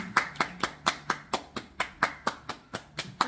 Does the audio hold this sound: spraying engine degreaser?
no